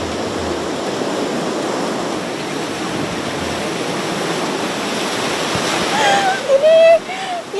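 Big southern-sea waves crash against a slick, pitted rocky reef. A loud, steady roar of surf runs throughout, with brief distorted blasts near the end.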